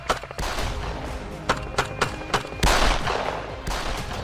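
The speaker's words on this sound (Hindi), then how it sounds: "स्कॉर्पियो को रुकवाकर उस पर ताबड़तोड़ फायरिंग शुरू कर दी" Gang attackers fire a volley of rounds at a Scorpio SUV stopped near a city police station in Haryana: a rapid string of loud, sharp bangs over a harsh, noisy background, then a denser burst.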